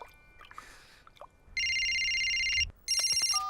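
A cartoon telephone in a Ben and Holly Christmas episode rings loudly with an electronic trill, one long ring followed by a short pause and a second ring, after some quiet faint sounds.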